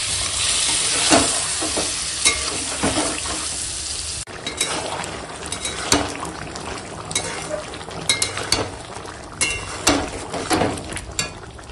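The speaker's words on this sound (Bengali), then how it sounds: "দেখো এরকম কষাচ্ছি" Chicken kosha being stir-fried in a pan with small splashes of water, loud close sizzling throughout with repeated scraping and stirring strokes, no voices over it.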